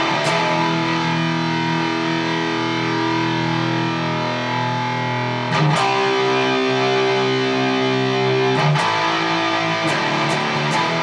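Distorted electric guitar plays a power chord verse riff with ghost notes between the chords, sustained crunchy chords broken by a few sharp percussive chord stabs, loud and alone.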